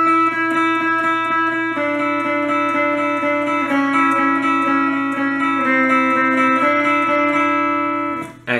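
Clean electric guitar plays a picked single-note melody, the intro line of a song, over a sustained low note, close and steady with no talking.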